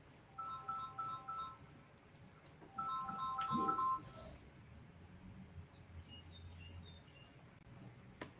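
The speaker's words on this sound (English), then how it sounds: "Don't know who's trying to phone." A telephone rings faintly in the background of a quiet lecture hall, giving two short bursts of trilling electronic ring tones about two seconds apart, with no talking over it.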